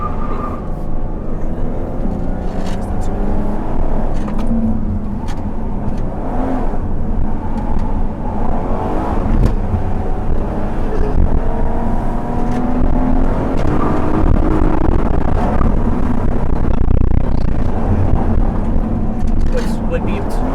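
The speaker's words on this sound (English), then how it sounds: "I think that's the car shifting to first when it does that." A Dodge Grand Caravan GT engine drones steadily as it downshifts toward first gear on a twisty canyon run, the road and cabin noise constant and close throughout.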